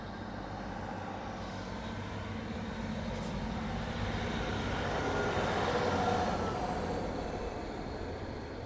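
A Class 153 diesel railcar moves off at Derby station, a steady broad rumble and engine drone that swells slightly toward the middle and stays continuous throughout, with no talking.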